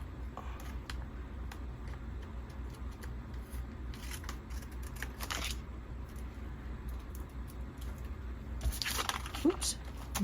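Scissors trim paper for a junk journal page, with a few quiet snips and paper rustles in a close, calm setting as a person talks softly.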